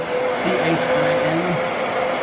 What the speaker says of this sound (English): Just a bare bones like hair dryer